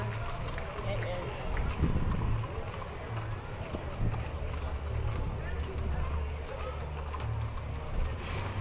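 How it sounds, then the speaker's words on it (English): Horses clip-clop steadily along the route of a 4th of July Independence Day parade in Ashland, 2014, hooves ringing over continuous crowd noise and chatter, with talk heard throughout. "The horses are so beautiful."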